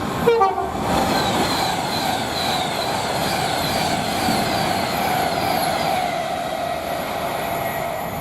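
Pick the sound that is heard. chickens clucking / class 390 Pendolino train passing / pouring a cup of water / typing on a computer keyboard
class 390 Pendolino train passing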